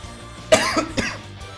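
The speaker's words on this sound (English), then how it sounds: "Can't be coughing like this without being sick." A person coughs twice in quick succession, sharp harsh bursts close to the microphone, with a faint steady background tone underneath.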